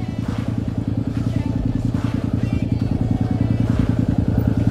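Big motorcycles, including a Harley-Davidson and a Triumph Tiger, rumble loudly in a street during a demonstration, a steady low throbbing engine drone with pulsing idle beats, close and continuous throughout.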